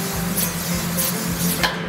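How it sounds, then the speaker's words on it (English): Cooking spray misted over cauliflower florets being prepared for roasting with Parmesan in a school food-service kitchen, a steady close hiss with a few brief bursts over about two seconds. "you're gonna spray down your cauliflower"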